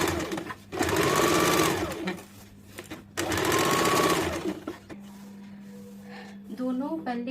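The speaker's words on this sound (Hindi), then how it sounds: "अब हम लोग दूसरे वाले साइड का भी सिलाई कर लेंगे" An electric sewing machine runs in two long, steady bursts while it stitches the side seam of a six-panel cotton petticoat. A quieter whir and faint handling sounds follow, and there is no talk.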